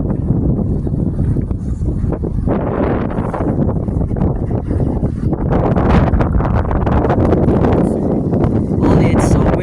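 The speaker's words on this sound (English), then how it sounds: "Holy, it's so windy." Strong gusting wind roars across a microphone high on Mount Wilson, a dense, steady rumble with surging blasts and buffeting throughout, near and loud, with a faint voice underneath.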